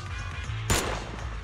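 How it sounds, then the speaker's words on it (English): A single sharp gunshot crack rings out in the video game Zenless Zone Zero, brief and mid-loud over a low background hum, with no voices. "The sound of gunfire rings out and a barrage of bullets fly towards the two of them"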